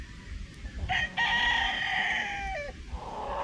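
Rooster of the iron cock type crowing once, a loud, near, drawn-out cock-a-doodle-doo of about two seconds with faint clucking and background noise around it.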